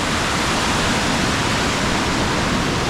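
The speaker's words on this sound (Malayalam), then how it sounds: "ഇത് നേരെ മുകളിലൊരു വെള്ളച്ചാട്ടമുണ്ട്." Rushing water from Arippara waterfall in Kerala, swollen after rain, a dense, unbroken roar, close and loud with nothing else heard.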